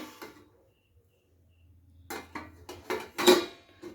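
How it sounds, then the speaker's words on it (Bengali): Steel lid set down over a bowl resting on a stand for steaming Bikrampur bibikhana pitha on a gas stove, giving a few close metallic clinks and knocks in quick succession after a quiet pause. "এরপরে এই বাটিটাকে স্ট্যান্ডের ওপর বসিয়ে দেবো আর ওপর দিয়ে দিয়ে দেবো এরকম একটা স্টিলের ঢাকনা চাপা"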